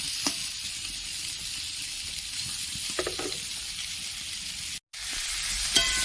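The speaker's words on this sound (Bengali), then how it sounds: "আমি বেশ কিছুক্ষণ পটলগুলো" Pointed gourd fries in oil with a constant close sizzle, with a few light stirring clicks and a brief moment of silence.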